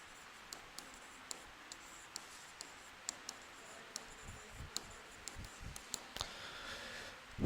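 A pen or marker writes a short heading during a lecture, heard as a series of light, evenly spaced taps and clicks close by, with soft scratching and a faint rustle near the end.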